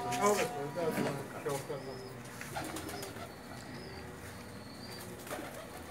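Pigeons coo faintly in the background with a brief flutter of wings on a rooftop in Jeddah, while a person talks nearby.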